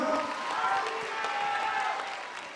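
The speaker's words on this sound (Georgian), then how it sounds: "აპლოდისმენტებით გავაცილოთ სალომე გოგონდა." A studio audience at a televised singing contest applauds steadily to send off a contestant, a dense wash of clapping with music playing beneath that fades slightly at the end.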